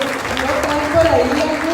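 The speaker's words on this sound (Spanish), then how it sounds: "Muy bien, otro aplauso." An audience at a political event applauds in a short burst of steady clapping, loud and close, with a voice speaking over it.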